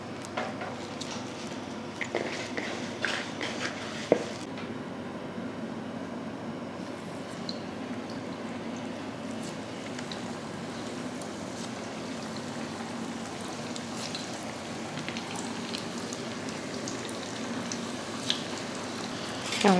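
Vadas deep-frying in hot oil, a steady low bubbling and gentle hiss that runs evenly throughout at moderate distance, with an occasional faint clink.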